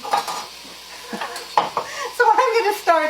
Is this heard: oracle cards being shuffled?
no